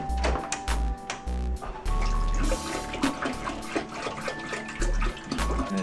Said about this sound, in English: Okay, next, pour the new water in.